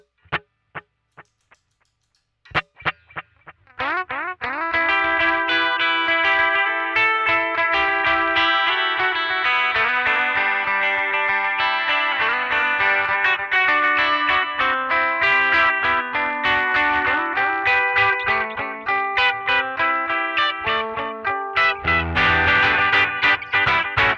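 A few sparse plucked notes give way to dense, continuous electric guitar playing through a Memory Man echo delay into a DSM & Humboldt Simplifier amp simulator, each note trailed by repeating echoes that blur into a shimmering wash.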